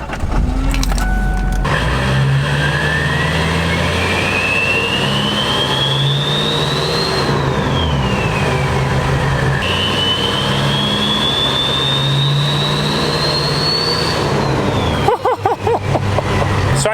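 A Hummer H1 fitted with an LBZ Duramax diesel and a 72mm turbo revs loudly and close up, its engine roar rising with the rising whistle of the turbo spooling, twice, before settling back down.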